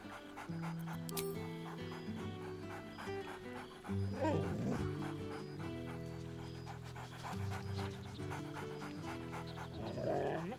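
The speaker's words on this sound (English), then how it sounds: "Scratch barks merrily in something like agreement." A dog in the fantasy role-playing game Baldur's Gate III pants and gives soft whimpers and yips over steady game music, the louder bursts coming at two separate moments.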